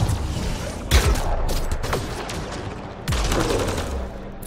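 Gunfire in the video game Mass Effect Andromeda: bursts of shots and impacts, a sharp blast near one second and another heavy burst past three seconds, over a continuous loud combat din with no talk.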